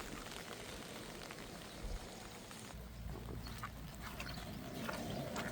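Heavy rain pours onto a flooded field of sunn hemp, a constant soft hiss of falling water with scattered drop patter, fairly faint and steady throughout, with no talking.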